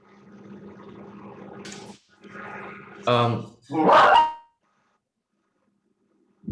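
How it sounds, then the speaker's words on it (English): During an online webinar, a dog nearby lets out a few loud, sharp barks and growly yelps amid speech-like sounds, then goes quiet. "I have some sound of the dog"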